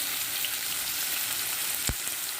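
Green chillies and onion fry with garlic in a pan, making a steady, bright, hissing sizzle that stays even throughout, close by, with one brief low knock near the end and no speech.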